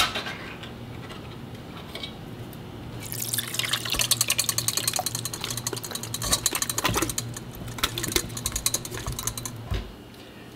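Canned tomatoes and tomatillos being drained in a kitchen, liquid trickling and splattering for several seconds in irregular drips and splashes, with a faint low hum underneath.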